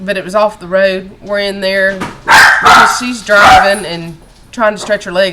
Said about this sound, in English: And I apologize for the dog. She's letting us know the other dog outside's barking.